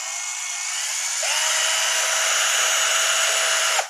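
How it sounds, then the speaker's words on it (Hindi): A Sared 12V cordless drill whirs alone at full speed, a high steady whine that climbs as the trigger is pressed fully, then cuts off abruptly after about four seconds. "बटन को फुल प्रेस करने पर ड्रिल मशीन अपनी फुल स्पीड पर चलती है"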